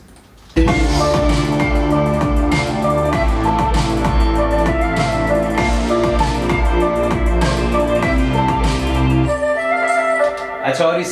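A punchy electronic drop with heavy, rhythmic bass and drums, while short chopped flute solo phrases flutter on top, loud and dense throughout.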